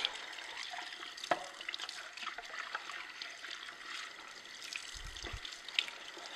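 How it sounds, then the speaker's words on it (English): Water runs steadily through the main unit of an Omega EUJ-606 Sana juicer being rinsed, a soft hissing splash, trickling and spattering continuously, with a few faint knocks of plastic. "Run the water through it."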